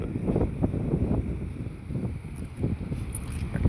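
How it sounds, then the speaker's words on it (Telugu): Sea water around an island off Kuwait City sloshes and rushes in a low, continuous churn with irregular surges, joined by wind buffeting the microphone. "ఎందుకంటే ఆ సౌండ్ ఎక్కువ వస్తుంది, నీళ్ళ సౌండ్."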